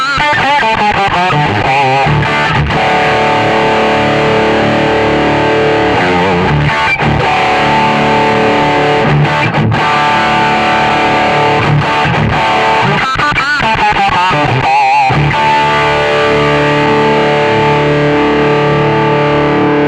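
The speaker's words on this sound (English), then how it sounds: "I can scroll to the booster, that's the first effect in the channel." An electric guitar plays through the booster effect on a Zoom G5 multi-effect processor, loud, thick and distorted, with sustained chords and notes ringing continuously and brief breaks between phrases, no voice.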